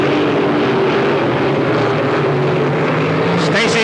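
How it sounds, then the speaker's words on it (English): A race car engine blows up during a race at Knoxville Raceway in 1984, heard as a loud, continuous, rough engine roar with a crackling burst near the end, under an announcer's voice. "Uh-oh, Stacy's blowing an engine."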